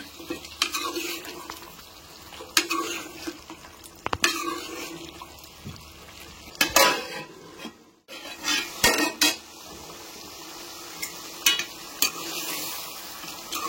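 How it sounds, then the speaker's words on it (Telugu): Chicken curry being stirred in a pot, Telangana style, with repeated scrapes and clinks of a metal spoon against the pan over a low simmering sizzle; no talking. "ఒక్కసారి మనం కలుపుకుందామండి కూర అయితే"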